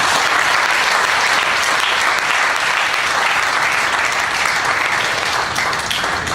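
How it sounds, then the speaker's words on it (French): A church congregation at an assembly in Strasbourg applauds, steady dense clapping from a crowd filling the hall throughout, without pause. "Est-ce qu'on peut acclamer?"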